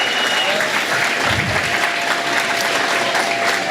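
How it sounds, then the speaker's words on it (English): An audience bursts into dense, sustained applause at an evening awards ceremony honoring diversity and inclusion, steady and loud from start to finish with no speech over it. "Let's give them a big round of applause again."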